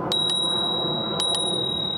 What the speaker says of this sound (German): Und einer sehr schönen Klingel.